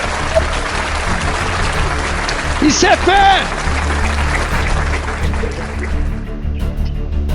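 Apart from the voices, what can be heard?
church congregation applauding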